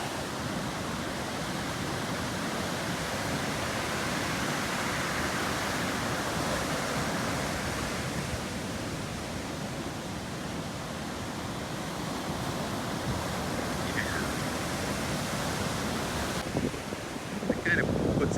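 Ocean surf breaks and rolls continuously along a beach, a broad steady roar of whitewater with a few faint rustles near the end.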